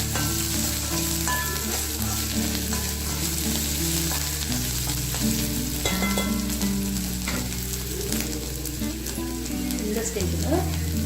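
Cauliflower florets for Gobi Manchurian fry and sizzle steadily in a pan, with loud continuous crackling, occasional stirring clinks and a low background hum throughout.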